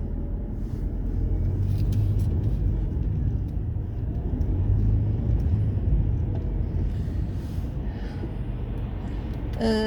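Road traffic passes on a motorway in London in autumn as a loud, continuous rumble of car engines and tyres, with vehicles steadily sweeping by up close.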